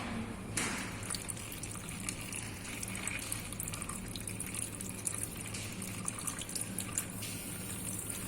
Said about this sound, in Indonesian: kita bilas lagi menggunakan air mengalir.